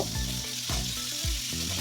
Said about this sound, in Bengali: আমি আস্তে আস্তে টমেটোগুলোকে উল্টে দেবো আর উল্টে উল্টো দিকটাও একটু ভালো করে আমি ভেজে নেব